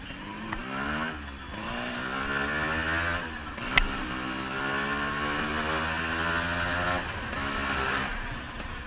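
A Yamaha RX100 two-stroke motorcycle engine runs close by, its buzzing note climbing and falling through repeated revs and gear changes, with one sharp click partway through.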